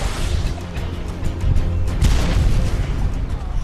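A rocket launcher explosion in the game ARK Survival produces heavy booming bursts that roll into one another, with the loudest blast striking about two seconds in and a low rumble carrying through.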